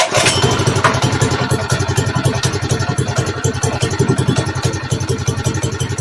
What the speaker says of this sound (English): this is the first time you guys have ever heard it run